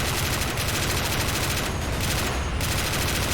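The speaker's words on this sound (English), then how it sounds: "Oh, the machine gun's still going." Sustained machine gun fire in the Army Men beach defence battle simulator game, a dense, continuous rattling barrage that stays loud and unbroken throughout with no talk.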